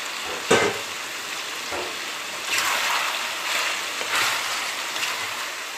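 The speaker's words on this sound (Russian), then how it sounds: "Теперь жарим лук до золотистого цвета." Steady sizzling and crackling of meat and onion frying in a pan for a roe deer stew, with a few brief clatters of stirring, no voices.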